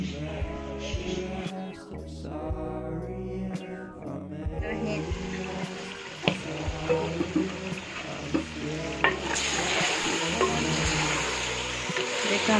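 Chicken feet fry in a pan while being stirred, with a steady sizzle and scraping of the spoon; near and moderately loud, building as liquid is added, with a voice speaking over parts of it.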